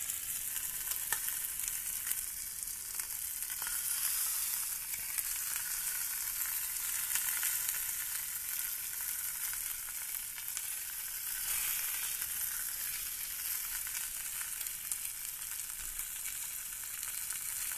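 Beef short ribs searing in a hot pan, a loud, continuous sizzle and crackle that holds steady throughout, close up with no voices.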